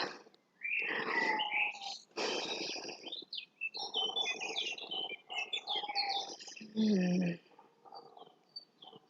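Birds chirp and trill in overlapping bursts, fairly faint and a little distant, with short pauses between the varied calls.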